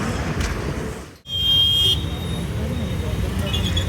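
Busy city traffic in Coimbatore around a TNSTC bus, with a steady roadway roar, engines and intermittent car horns close by, including a brief sustained honk.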